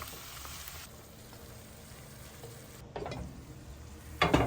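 Spanish-style cod dish, bacalao, stirred in a pan as it cooks, with a steady soft sizzle and a few louder scraping stir sounds near the end.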